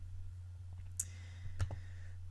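A computer mouse clicks a few times during GIS lab work, with two or three sharp, close clicks over a steady low hum and no talking.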